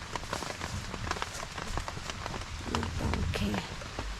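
Steady rain patters on a surface at night in a forest, heard from a high hunting platform, a continuous hiss with scattered drops, while people talk quietly nearby.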